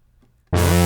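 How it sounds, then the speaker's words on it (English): A note on the Air Hybrid 3 virtual synthesizer, with a chorus effect added, starts abruptly after a moment of near silence. It sustains loud, full and harmonically rich to the end. "So let's add a little bit of chorus."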